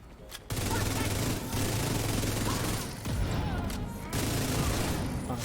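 Sustained gunfire in a video game, dense continuous rattling bursts broken by a couple of short pauses, loud and close, with a voice speaking over it.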